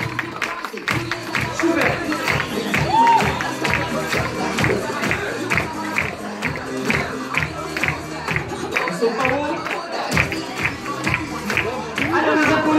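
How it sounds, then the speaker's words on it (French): Loud, steady applause and crowd noise from an audience at a hypnosis show, the clapping carrying on for the whole stretch while scattered voices and a few spoken words sit on top. "je voudrais qu'on les applaudisse très très fort"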